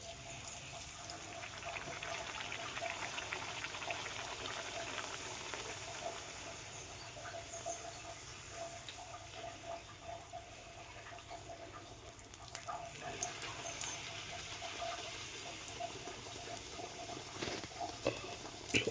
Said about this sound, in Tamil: எண்ணெய் வந்து நல்லா காஞ்சிடுச்சு. அந்த பூரி வந்து பொரிச்சு எடுத்துக்கலாம்.